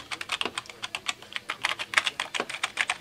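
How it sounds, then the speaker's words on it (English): Rapid typing on a vintage IBM Personal Computer keyboard, a heavy old board giving a steady run of crisp, clacky keystrokes with no voices. "IBM Personal Computer keyboards."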